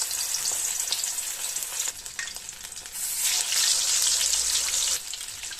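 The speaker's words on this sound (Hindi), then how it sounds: "अब हम मीडियम लो फ्लेम पर अपने चीज बॉल्स को फ्राई कर लेंगे" Spinach and cheese balls fry in hot oil over a medium-low flame, giving a steady, close crackling sizzle that swells louder midway and eases near the end, with no voices.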